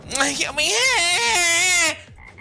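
Toads in a swamp in a video game give a loud, close, drawn-out warbling croak lasting about two seconds, followed by faint quieter calls.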